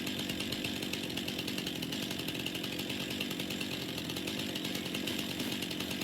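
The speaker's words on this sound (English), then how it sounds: "Let's break out our trusty chainsaw." A chainsaw runs in the farming game Farming Simulator 25 while clearing trees in a forestry setting, giving a steady, continuous buzzing drone with no pauses.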